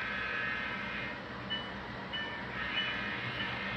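An RSD5 diesel model train runs along a layout, giving a steady, continuous rumble with faint squeals and clicks from the track, moderately near and without speech.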